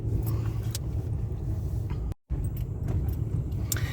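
A family pick-up truck driving, a steady low engine and road rumble heard from inside the cab, continuous apart from a very brief dropout midway.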